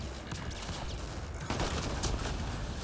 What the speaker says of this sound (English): There's still more shooting at me?